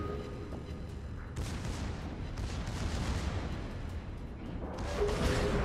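Warship guns firing armor-piercing shells in World of Warships, heavy booming blasts that swell into a continuous rumble, with a louder surge of fire near the end.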